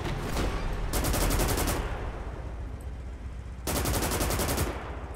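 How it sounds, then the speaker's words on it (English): Machine gun fire in the video game Gates of Hell: two loud, rapid sustained bursts stand out against a constant rumble of distant battlefield gunfire. "Gosh, those machine guns are so inaccurate."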